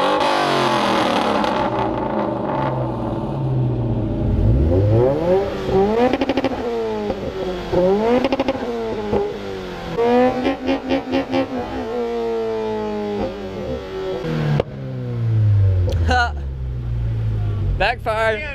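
Ford GT 4.6 engine revving hard on a mountain road, repeated rising and falling revs with sharp backfire pops echoing off the slope, loud and close, with people talking excitedly between blips.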